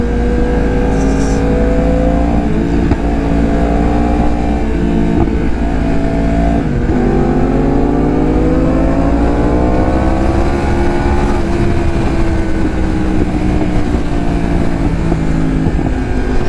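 Motorcycles riding along a road on a Sunday morning ride, engines droning loudly and steadily with pitch rising and falling as riders accelerate and ease off, close and continuous with no talking.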